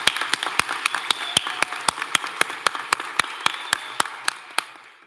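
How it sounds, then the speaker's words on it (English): Applause from an audience at a graduation and awards ceremony: steady, evenly spaced claps at a moderate pace that continue for several seconds and then fade out, with no talking over them. "Can I please ask you for another round of applause for this participant"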